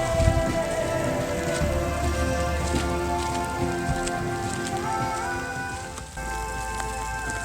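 Heavy rain pours down steadily in Manali in winter, a dense, continuous hiss of drops hitting surfaces with no break throughout.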